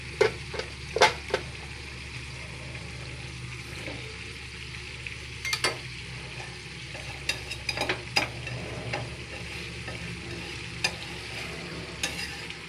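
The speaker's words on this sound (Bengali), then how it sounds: "এই যে দেখেন এখন এর উপরে আমি সবজিটা দিয়ে দেবো আস্তে আস্তে" Chopped vegetables hit a hot wok and fry with a soft, continuous sizzle, while a spatula stirs them and scrapes the pan in short, sharp clinks and knocks at an uneven pace.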